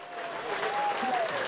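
Applause from a crowd of 3,200 spectators greeting the winner at a Swiss wrestling festival, a steady wash of clapping at moderate distance with some cheering voices mixed in.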